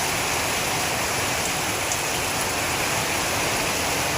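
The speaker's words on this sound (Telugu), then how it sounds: "వర్షం చూడు ఎంతలా వస్తుంది." Heavy monsoon rain roars as a dense, unbroken hiss, loud and even throughout, with no voices.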